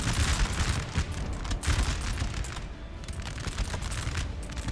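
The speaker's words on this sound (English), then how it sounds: "definitely howitzers coming from Netherlands up there" Howitzer artillery thunders in Napoleon Total War, a rolling barrage of booming cannon shots at a moderate distance, several overlapping blasts firing in uneven succession without voices.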